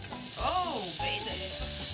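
A thick vegan burger patty sizzles steadily in a pan, a continuous close frying hiss with a few faint tonal squeaks over it, no voices.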